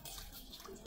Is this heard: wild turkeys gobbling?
no